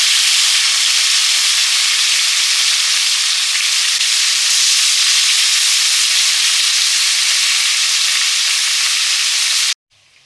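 Rupchand fish fries in hot oil with a steady, dense, loud sizzle that runs unbroken for nearly the whole stretch, then cuts off abruptly just before the end.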